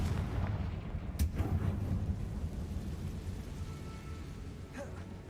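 Confringo fire spell explosion in Hogwarts Legacy: a sharp burst near the start followed by a long rumbling, thunder-like roar and a second smaller crack toward the end, heavy and sustained.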